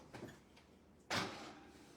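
A kitchen oven door clunks as it is handled while cake pans go in, a faint rattle followed by a firmer thud, close and quiet with no speech.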